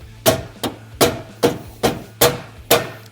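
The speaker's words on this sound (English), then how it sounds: "Don't smack it, but just lightly tap it." A hammer gives seven light, evenly spaced taps as a 6.0 intercooler is seated into place on a 7.3 Powerstroke, each tap a close, sharp knock.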